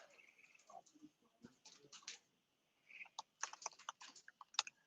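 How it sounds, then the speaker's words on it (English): A computer keyboard clicks in faint, irregular bursts of keystrokes, with short pauses and a quiet stretch in the middle before the tapping picks up again. "I can hear David typing on his own"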